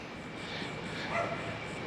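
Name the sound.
dog barking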